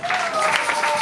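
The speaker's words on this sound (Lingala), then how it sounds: "Acclamons la parole de Dieu." A church congregation applauds after a Gospel reading, a dense, continuous wash of clapping hands with a sustained voice or tone running beneath it.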